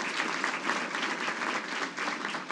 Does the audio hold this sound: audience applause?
yes